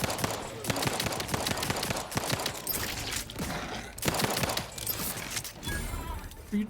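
Gunfire in the video game The Outer Worlds 2, with rapid bursts of loud, sharp shots repeating through a firefight, dense and continuous with brief gaps.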